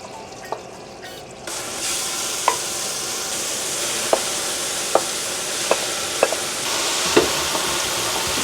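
Pureed onions cook in butter in a pan, sizzling and frying steadily while a utensil stirs and taps the pan several times at irregular intervals, with no voices.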